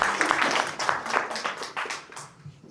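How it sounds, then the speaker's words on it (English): Audience applause at a VIP gala night, a dense patter of many hands clapping at moderate volume that gradually thins and fades toward the end. "So again, round of applause for RAN San."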